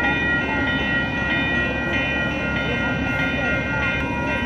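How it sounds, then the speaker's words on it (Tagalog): A train passing near a San Diego waterfront, a steady broad rumble of rail cars with faint bell-like tones over it, while people talk in the background. "Nadadaan na tren, kaya tigil kami."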